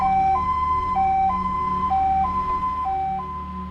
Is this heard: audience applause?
no